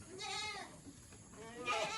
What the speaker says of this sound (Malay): Ni kambing-kambing kita.